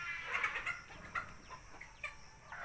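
Hens brooding in their nests cluck softly and continuously. The calls are close and moderately loud, with a few sharper squawks over a low ambient hum.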